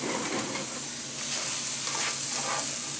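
Food sizzles and fries in a hot iron skillet during a bodybuilder breakfast, a steady close hiss with faint crackles and no talking.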